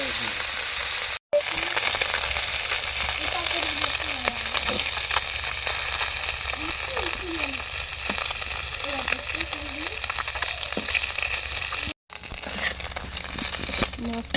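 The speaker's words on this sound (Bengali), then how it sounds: "ওই তেলে দিয়ে দিব মাছ আর পেঁয়াজটা, মাছটা" Fish and onion fry in hot oil with a loud, steady, close sizzle and crackle, broken by two brief cuts, while a voice speaks faintly underneath.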